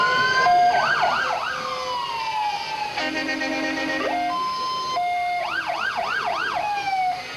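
Wailing fire engine siren from a decorated Fond du Lac town engine company unit in a 1998 Christmas parade, loud and close, rising and falling in repeated sweeps with a steady horn-like tone in the middle.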